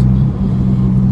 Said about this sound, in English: I don't know how loud you can hear the exhaust.